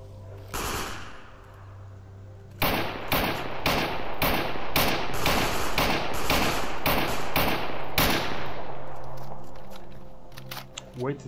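Gunfire in the shooter S.T.A.L.K.E.R. Anomaly: one early shot, then a rapid string of about a dozen loud, close reports after a short pause, ending in a fading tail.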